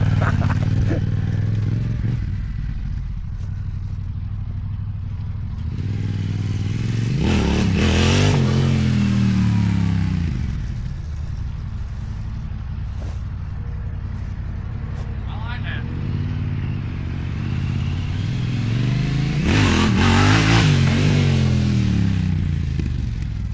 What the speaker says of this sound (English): Attempt number 2, Greg, on the T7, which we call Cracker now